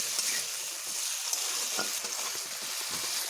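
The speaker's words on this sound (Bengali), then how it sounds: "এইভাবে আমি এগুলোকে ভেজে নিচ্ছি" Pumpkin pieces sizzle steadily in a hot pan with salt, a continuous close frying hiss with faint scraping stirs throughout.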